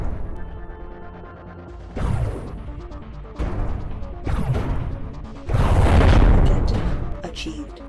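Explosions from a target being destroyed in the MechWarrior 2 video game, a series of heavy booming blasts building to a loud rumbling crash near the end.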